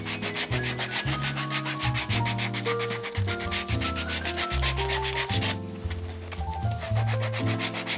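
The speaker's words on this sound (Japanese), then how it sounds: "これをサンドペーパーでちょっと落とします。" A leather shoe sole made with Asian black bear leather is rubbed with sandpaper in steady back-and-forth strokes, close by, beneath loud background music.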